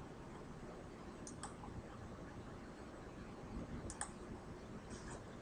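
A computer mouse gives a few faint, sparse clicks, two quick pairs separated by a pause, over a steady hiss of background noise.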